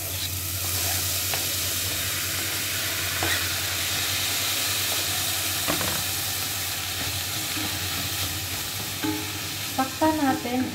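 Tomatoes sizzle and fry in a pan for fish sarciado, a steady close hiss with occasional stirring scrapes and clinks.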